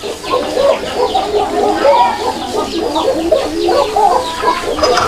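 Caged fancy pigeons at a pigeon seller's stall keep up a dense, loud chorus of overlapping coos and calls, with no pause across the whole stretch.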